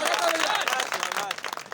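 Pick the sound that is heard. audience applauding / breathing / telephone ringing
audience applauding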